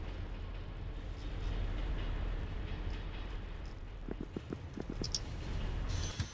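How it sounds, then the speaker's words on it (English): A train in Factorio rolls along with a steady low rumble and rushing noise, a few light clicks near the end, no talk. "Let's bring the old train over to me."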